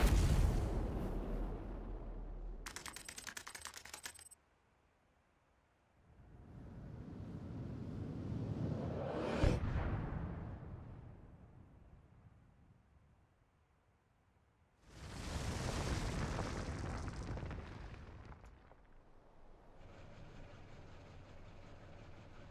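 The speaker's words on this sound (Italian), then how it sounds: "Quell'esplosione." Explosion from a Yo-Kai Watch 3 video game cutscene: deep roaring rumbles that swell, fade out, then return with another loud burst, ending in a steady lower hum.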